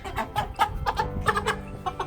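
Chickens cluck and chatter in short, irregular bursts close by, several birds calling over one another ahead of processing, with no speech.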